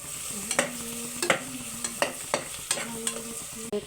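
Spices being stirred in hot oil in a pan, a soft sizzle under repeated scraping strokes of a spoon, roughly two per second, close and moderately quiet.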